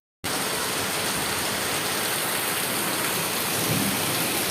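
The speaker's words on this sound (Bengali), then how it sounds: "এত বৃষ্টি হচ্ছে যে বৃষ্টির ফোঁটাতে কিছু দেখা যাচ্ছে না" Heavy rain pours onto a rooftop in a dense, loud, unbroken roar that begins abruptly and holds steady throughout, with no voices.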